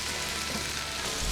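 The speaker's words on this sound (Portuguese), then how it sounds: "Agora é saltear, deixar ela cozinhar, para depois a gente fazer a próxima etapa." Potatoes sautéing in a frying pan for a Spanish tortilla, a brief, even hiss of sizzling oil that stays steady throughout.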